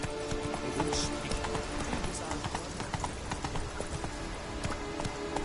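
Roach, a horse in a video game, gallops with rapid, continuous clip-clop hoofbeats close up, a brief whinny early on, under a voice speaking throughout.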